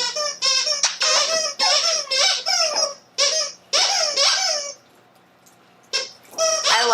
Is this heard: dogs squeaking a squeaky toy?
yes